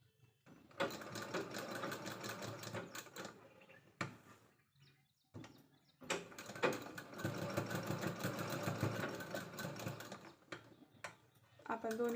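A sewing machine stitching a fabric strip onto a pocket made from a leftover blouse border, rapid whirring runs of stitching that stop and start, with short pauses between bursts.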